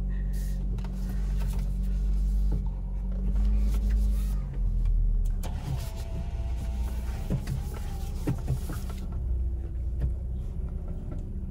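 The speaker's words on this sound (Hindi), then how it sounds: "आप देख सकते हैं गाइस मैं गाड़ी कैसे यहाँ से मैन्यूवर करके निकलता हूँ" A Renault Kwid Climber inches out of a tight parking spot, its engine a steady low rumble close by, with a few clicks and shifts as it moves, and no talking.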